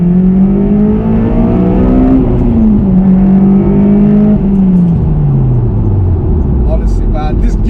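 A 2006 Honda Civic EP3 Type-R with Stage 2 tuning pulls flat out from inside the cabin. The engine note is loud and climbing, with a gear change dropping the pitch midway before it climbs again.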